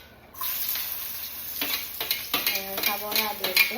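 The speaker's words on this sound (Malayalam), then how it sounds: "പാനിലെല്ലാം ഇട്ടതിന് ശേഷം നമ്മളൊന്ന് മിക്സാക്കി കൊടുക്കുകയാണ്." Onion, green chilli and carrot are stirred in coconut oil in a pan, a continuous sizzle broken by rhythmic scraping strokes of a spoon, close and without talk.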